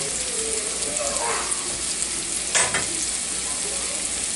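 Chicken pieces searing in a pan over medium-high heat for saffron chicken and orzo, a steady close sizzle with a brief louder crackle midway, no talking.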